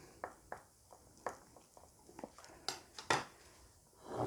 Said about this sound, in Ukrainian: гарненько перемішую